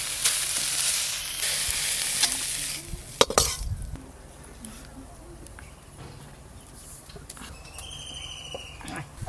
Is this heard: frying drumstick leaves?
yes